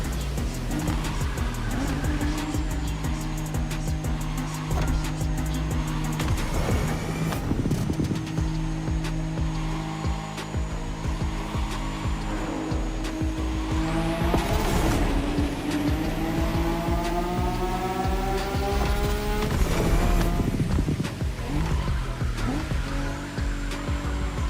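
A car in The Crew Motorfest racing game drifts with loud, sustained engine roar and repeated long tire squeals as it slides through corners, continuous and close for the whole stretch with no talk.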